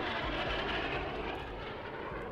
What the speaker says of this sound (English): the Lockheed SR-71 Blackbird. Yes, that's not a fighter jet, but still the fastest military aircraft